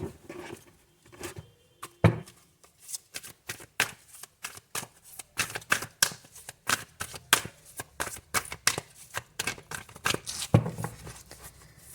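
Tarot cards being shuffled by hand, a quick series of crisp riffling and slapping bursts in irregular rhythm, close and fairly quiet, with no talking.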